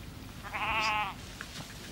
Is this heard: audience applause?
no